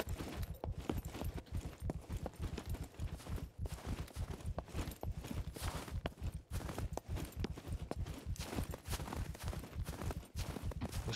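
Horse hooves clip-clop in a steady, brisk rhythm through the whole stretch in the survival game SCUM, moderately quiet and continuous, with no talk over them.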